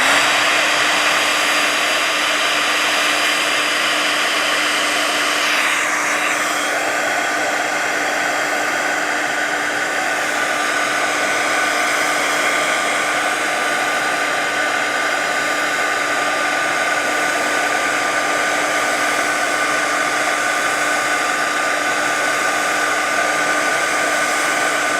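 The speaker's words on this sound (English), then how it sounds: "I'm going to hit this with my heat tool again." Heat tool blowing over watercolor Distress Oxide ink on paper, a continuous close, loud whooshing whir that holds steady without a break.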